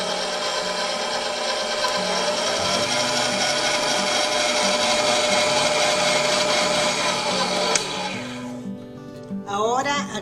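A stand mixer steadily churns flour and salt in its bowl, giving a continuous, loud whirring drone. Near the end it stops with a click, and a few clattering handling noises follow.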